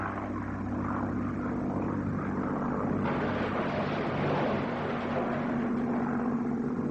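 Propeller aircraft of a Soviet airborne unit from 1936, a continuous loud droning engine roar with a steady low throb and a brightening swell partway through, no voices.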